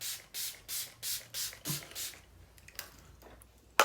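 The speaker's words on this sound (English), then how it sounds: "I'm going to spray a bit of this." A Natura Bisse Diamond Mist face mist bottle gives six quick, evenly spaced spritzes close up. A few soft handling noises and a sharp click follow.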